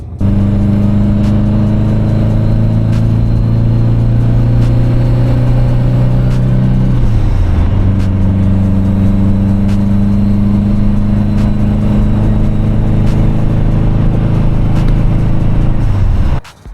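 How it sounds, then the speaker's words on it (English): A car engine idles loudly and close, its hum rising and falling through a couple of gentle revs before cutting off at the end. "But for the moment, we're just warming the car up."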